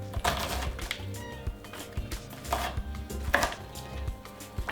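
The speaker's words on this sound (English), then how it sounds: "now I'm just gonna cut the sides, dice her up" Close-up knife chopping through an onion on a cutting board, with a steady series of sharp knocks against the board at an uneven pace, heard alone over a faint kitchen hum.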